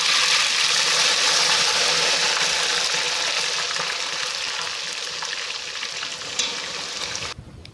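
Garlic, onion and ginger paste with whole spices frying in a hot pan, a loud, steady hiss and sizzle close up that eases slightly over several seconds before cutting off abruptly.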